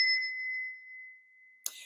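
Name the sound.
bell being rung to clear negativity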